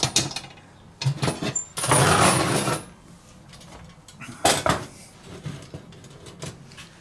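Metal pieces of a German army mess kit being handled, with a small stove fitted onto it: close clanks, scrapes and rattles in uneven bursts, including a longer grating slide.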